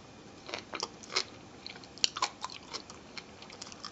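Someone bites into baked asparagus topped with melted cheese and chews it, giving a series of close, soft crunches and wet chewing clicks, with one sharper bite midway and no talk.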